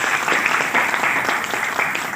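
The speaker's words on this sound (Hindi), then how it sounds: "एक बार जोरदार तालियां आप सभी लोगों के लिए" Lively audience clapping at a wellness product motivational presentation runs steadily throughout, moderately loud, with individual hand claps pulsing within a continuous wash of applause.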